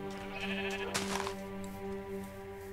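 Sheep in the video game Minecraft bleat over a steady humming background, one clear wavering bleat near the middle, moderately close.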